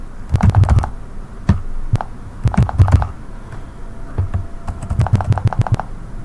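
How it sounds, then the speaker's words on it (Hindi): A computer keyboard is typed on in bursts of close, crisp key clicks, with short pauses between clusters of keystrokes, while entering data in Tally Prime accounting software. "यहाँ पर डायरेक्टली टाइप कर लेंगे"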